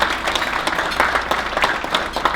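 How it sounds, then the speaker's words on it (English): A crowd at a family business awards event applauds its sponsors with a continuous, fairly loud wash of many hands clapping that holds steady throughout. "Let's give them all a round of applause."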